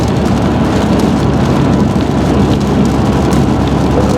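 Heavy rain pours steadily and loudly in a wet, dense wash, with a low rumble that may be distant thunder, and no voices over it.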